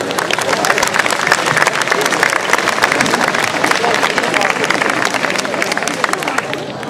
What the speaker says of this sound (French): on peut les applaudir parce qu'ils ont fait un boulot phénoménal